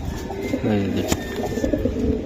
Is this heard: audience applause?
no